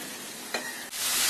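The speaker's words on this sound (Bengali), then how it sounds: "গাজরটা এই মশলার মধ্যে 1 মিনিট ভেজে নেব" Chopped carrot frying in hot oil and spice masala as a semolina breakfast is prepared, a steady close sizzle broken by a brief stirring scrape partway through, then a brighter hiss.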